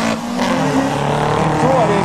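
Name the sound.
old cars drag racing on quarter-mile track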